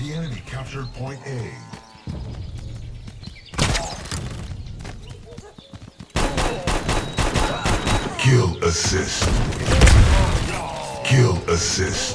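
Gunfire in the mobile shooter Guns of Boom comes in bursts and single shots with game effects, loud and close, while a voice talks over parts of it.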